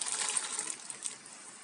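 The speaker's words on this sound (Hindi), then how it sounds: "अब उसी पानी को फिर से उबालेंगे और उसमें बाकी मटर डालेंगे।" Green peas being poured into a pot of water on the boil, a short, soft splashing and pattering that starts briskly and then trails off quieter.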